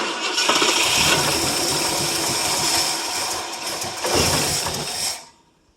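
The 390 FE V8 of a 1967 Ford LTD two-door cranks on a cold start after sitting 12 years. It makes a loud, continuous churning drone for about five seconds that swells again near the end and then stops abruptly, with no talk.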